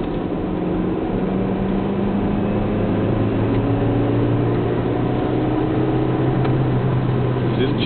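Chevrolet Lacetti fitted with an Antonov dual-speed supercharger accelerating around a corner: a steady in-cabin engine hum with rising whine tones that climb gradually, moderately loud and continuous.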